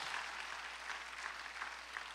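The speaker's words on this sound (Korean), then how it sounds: "박수를 치며 하나님께 영광을 드리세요" A church congregation claps through a Sunday worship service, making a soft, steady patter of distant applause that continues evenly throughout.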